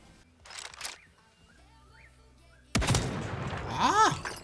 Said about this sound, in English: Who is he even shooting at?